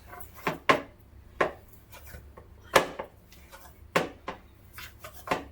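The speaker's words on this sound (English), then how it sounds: "I gotta chop some garlic, some onions, tomatoes, lettuce," A knife chopping garlic, onions, tomatoes, lettuce and jalapenos on a board for tacos: irregular sharp, close knocks of the blade, roughly one every half second or so, with quieter scraping between.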